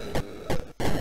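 Space Invaders on the Atari 2600 plays three loud, buzzy electronic bursts separated by brief gaps, harsh and noisy in texture, with no voices over it.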